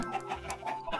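Chickens on a chicken farm in the video game Minecraft cluck in short repeated calls, several overlapping bursts over a low steady background.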